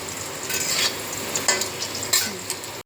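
Spice masala for chicken fries and sizzles in a pan, stirred with a few scraping strokes, a steady close crackle throughout.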